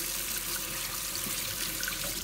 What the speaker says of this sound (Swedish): Vi börjar ju med att tvätta händerna förstås.